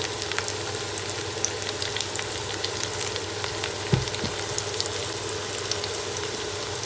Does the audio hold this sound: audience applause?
no